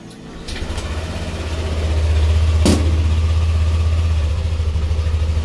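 A car engine idles steadily after its ECU was reprogrammed to fix corrupted idle speed control, giving a loud, even low rumble throughout with one brief sharp knock partway through.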